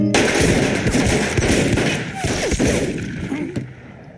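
Several sharp gunshots crack amid a dense, rumbling din of action and commotion in the 2007 film You Kill Me, loud and close, with a couple of distinct bangs near the end.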